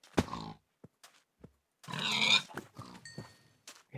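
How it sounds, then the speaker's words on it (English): Short pig grunts from Minecraft Feed The Beast, a few separate snorting bursts with gaps of quiet between them, fairly close and moderately loud, no talk over them. "Oh, hey, pig."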